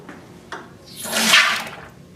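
Pressurized liquid sprays out of an air pump in a short hissing gush that swells and fades after a couple of small clicks, heard close and alone.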